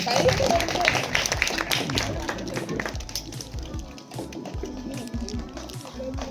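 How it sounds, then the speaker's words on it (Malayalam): Audience clapping at a Christmas celebration in Chundakolli, a dense rattling burst of applause that is loudest at first and then thins out, with voices talking over it. "കയ്യടിയൊക്കെ കൊടുക്കാട്ടോ."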